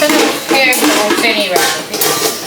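Dishes, pots and pans are washed in a home kitchen while appe cook, giving a continuous loud clatter and clinking of metal utensils and cutlery knocking together, close and busy throughout.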